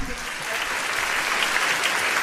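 An audience claps steadily and densely through the whole stretch at a live music and dance performance, the applause sounding close and full, with no talking over it.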